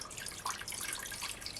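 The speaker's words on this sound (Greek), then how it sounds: "νερό καυτό." Hot water pouring into a cooking pot, a soft continuous splashing trickle heard alone, close and steady throughout.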